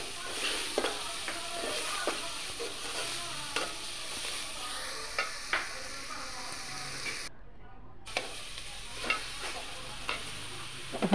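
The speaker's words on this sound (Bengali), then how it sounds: "এখন আবার মশলাগুলো সুন্দরভাবে আমি নেড়ে চেড়ে ভেজে নিচ্ছি।" Whole spices, bay leaves, cinnamon sticks and green cardamom are stir-fried in a pan for a Bengali fish-head murighonto, giving a soft steady sizzle broken by a quick series of spatula scrapes and clicks, with a short silent gap partway through.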